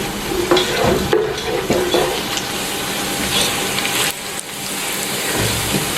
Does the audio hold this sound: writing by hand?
no